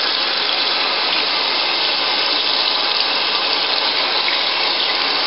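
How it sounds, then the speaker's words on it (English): Water gushes steadily from a tap, close and loud, as bleach is rinsed out of the knots of a hairpiece, a continuous rushing splash with no pauses. "we're just going to rinse that out"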